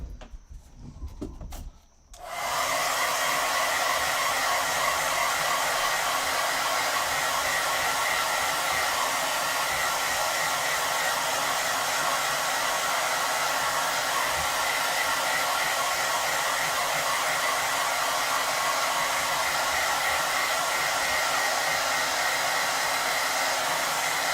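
A hair dryer switches on after a brief quiet moment and blows steadily to dry watercolor paint, a loud continuous whooshing roar held close for the rest of the time.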